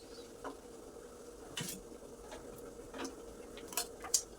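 Luchi puffing in hot oil in a kadai, a faint crackling sizzle broken by scattered clinks and scrapes of a utensil, with sharper spatters near the end.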